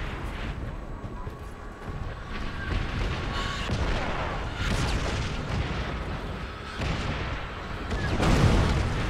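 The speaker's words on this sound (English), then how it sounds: "Enemy artillery!" An enemy artillery strike in Call of Duty: World at War rumbles as dense, continuous booms and blasts, loud and sustained throughout with a heavier swell near the end.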